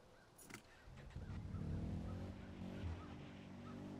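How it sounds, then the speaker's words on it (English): Quad bike engine in Far Cry 4, a low droning motor that swells in after a brief sharp burst and holds a steady rumble, fairly quiet and alone. "Might as well take the quad bike then."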